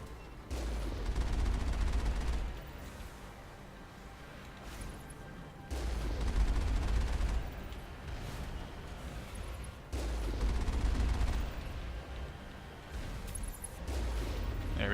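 Turret gunfire from the Mass Effect game on Noveria comes in loud, dense bursts of about two seconds, repeating every few seconds with a steady low rumble between them.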